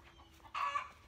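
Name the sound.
chickens clucking in the front yard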